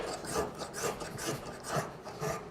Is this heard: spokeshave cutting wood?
yes